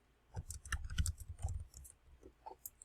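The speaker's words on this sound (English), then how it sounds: "in a shape you can type in it" Typing on a computer keyboard while entering text into a PowerPoint shape gives a quiet, irregular patter of key clicks in short bursts, close and soft, with no voices.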